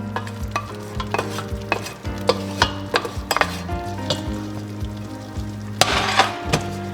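Chickpeas and chicken stirred in a pot, a spoon scraping and clinking against the metal in irregular strokes over a soft sizzle, close and clear with no talking.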